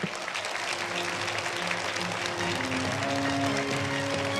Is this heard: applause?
yes